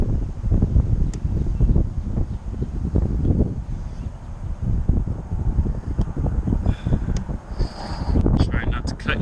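Gusty wind blows outdoors during RV leak repairs on a motorhome, a steady broadband rush and buffeting across the whole stretch, with wind noise hitting the microphone.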